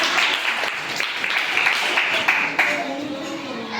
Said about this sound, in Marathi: एक मिनिट अक्षरासाठी सगळ्यांनी टाळ्या